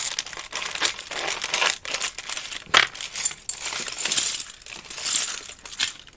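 A plastic bag of hamster toy pieces is torn open and handled, giving a continuous close, loud crinkling and rustling with sharp tearing bursts and shifting plastic clatter.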